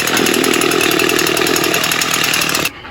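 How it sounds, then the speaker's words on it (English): A string trimmer (weed whacker) runs with a loud, steady, buzzing engine whine and stops abruptly near the end. "struggling with the weed whacker, but he figured it out"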